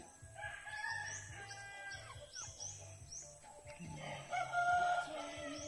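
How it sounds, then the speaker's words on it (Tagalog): Native chickens on a rural vegetable farm in the Philippine countryside: a rooster crows amid softer clucking from the flock, fairly faint against an outdoor background. "Native manok."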